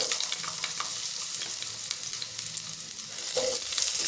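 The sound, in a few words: potatoes frying in mustard oil in a wok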